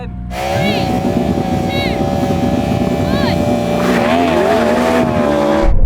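A Ferrari SF90 launching in a drag race on a partly wet strip, its engine a loud, close, sustained whine that climbs steadily in pitch, with voices over it.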